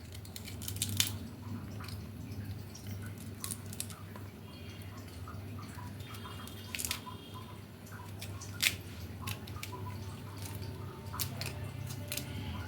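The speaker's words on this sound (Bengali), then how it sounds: "একটা পিলারের সাহায্যে সমস্ত বিচিগুলো বার করে নেব" A peeler scrapes the seeds out of halved kakrol (spine gourd), giving soft, faint, wet scraping and small clicks in irregular bursts over a steady low background hum.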